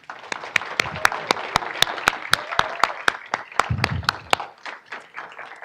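Scattered, fairly sparse clapping from the audience at a Lambda Nu Phi Tau chapter induction ceremony, sharp individual claps in a loose rhythm with a brief low murmur of voices near the end before the claps die away.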